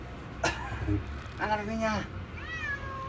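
Several high, wavering cat meows, close by, with a few short ones followed by a longer drawn-out cry, over light background noise.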